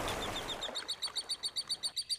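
Flock of budgerigars, Australian parrots, at a desert waterhole, giving a rapid series of about ten sharp, high chirps in a steady rhythm, fairly close and loud against a quiet background.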